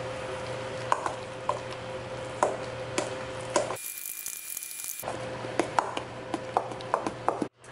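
Pasta ingredients being mixed in a pan, with repeated scraping and clinking strokes at an uneven pace, broken by a brief silent gap.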